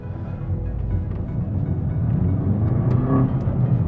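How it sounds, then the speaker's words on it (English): A Mini Cooper S rumbles along while driving, its exhaust a low, steady, fairly loud drone with a slight rise in revs, heard from inside the car. "I don't know if you can hear that exhaust"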